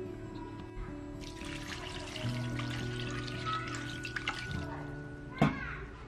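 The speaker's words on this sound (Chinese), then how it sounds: "然后加入清水" Clean water pours into a bowl of salted shredded potatoes, a steady close trickle and splash that swells after the first second and ends with a brief sharp knock.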